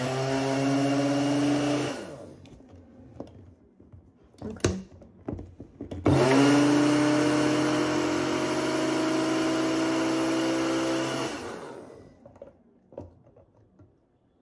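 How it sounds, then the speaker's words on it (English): A small Magic Bullet blender, powered by a Jackery 500 power station, whirs loudly in two long bursts, separated by a few clunks and knocks, its motor pitch sliding slightly as it runs. "So this is the magic bullet."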